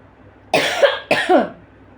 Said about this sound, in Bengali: মাঝে মাঝে এত কাশি উঠছে